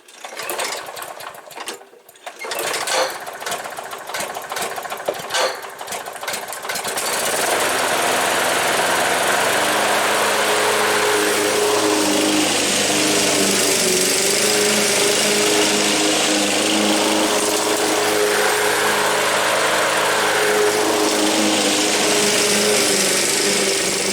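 An Ariens lawn mower engine running after a blade clutch repair: a few seconds of rattling mechanical clatter, then a loud, steady engine drone that holds evenly for the rest of the time, close by and without talking.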